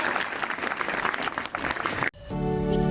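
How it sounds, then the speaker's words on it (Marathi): An audience claps at a school Independence Day student performance, a dense burst of applause from a crowd that fades out after about two seconds before a sharp cut. "बहुत ही खूप जोरदार टाळ्या होऊन जाऊ द्या"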